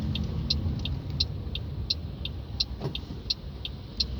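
A manual car driving on a road in England, with a steady low engine and road rumble throughout and regular high clicks, likely a turn signal ticking about every 0.7 seconds.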